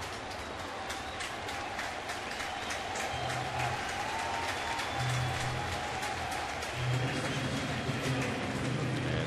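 Baseball crowd at a Mets home game applauding outfielder Beltran as he returns to the dugout, a steady moderate wash of clapping and crowd noise that swells in bursts toward the end.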